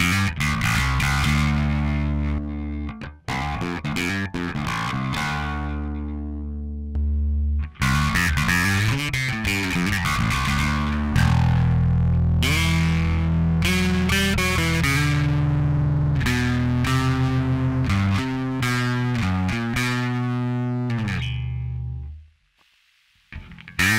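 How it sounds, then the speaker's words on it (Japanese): Electric guitar pushed into heavy distortion through a Harmonic Booster pedal, sustained chords and notes ringing loud and thick with no gaps, brief breaks near 3 and 8 seconds, then the tone cuts out just before the end. "こういう状態からもう歪ませモードにしていく"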